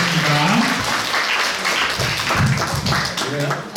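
Audience at a Catholic human rights Sunday seminar applauds to welcome a professor emeritus to the lecture podium, steady clapping throughout under loud music and an announcer's voice.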